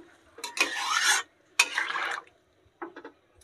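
A spoon stirring spiced tilapia curry in a pan just after water has gone in, heard as two long close scraping sweeps followed by a couple of short ones, with no talking.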